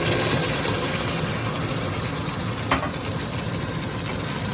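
Garlic and onion sauce from a jar poured into a hot pan for pork and bean soup, giving a steady loud broadband sizzle throughout with one brief splash or clink near the end.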